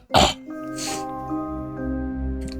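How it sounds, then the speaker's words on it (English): One short, rough throat clearing up close, followed by a quieter second rasp and a faint hum. "I need to clear my throat as well"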